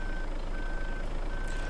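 Reversing beeps from a truck in the Farming Simulator 15 video game, a steady repeating high electronic tone sounding three times over a loud constant engine drone, with no talk.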